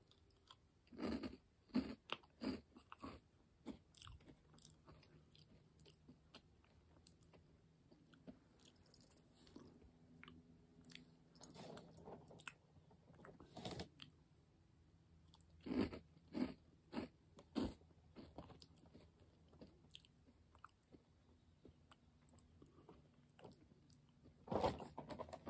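Someone chews Oreo O's cereal close up, with crunchy bites in bursts separated by quieter pauses and softer mouth sounds over roughly twenty-five seconds.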